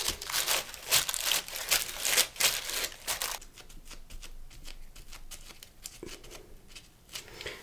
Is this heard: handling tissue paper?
yes